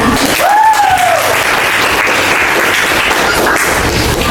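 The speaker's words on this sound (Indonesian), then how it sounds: "Beri tepuk tangan." Classroom of students applauding to congratulate group 1 for finishing first, steady dense clapping throughout at close range, with a brief voice cry near the start.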